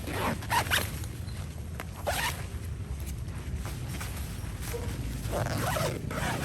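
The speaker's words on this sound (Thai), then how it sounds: "พอเขาเข้ามุมดีแล้ว เราก็รูดซิปปิด" A zipper is run closed on the storage pocket of a folding tent, giving a close, scratchy rasp in several quick pulls over a few seconds.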